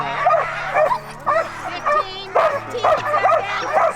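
Excited sled dogs yip, whimper and bark in repeated bursts at the start line of a sled dog race at Priest Lake, loud and close, with people talking over the clamor.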